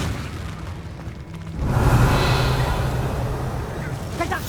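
A Confringo fire spell erupts in the Hogwarts Legacy video game: a loud, sustained explosive boom swells midway through and rumbles on with a crackling burning tail, after quieter game ambience.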